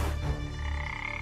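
A frog croaks in a short, steady, low buzzing call lasting about a second, with no other sounds or voices.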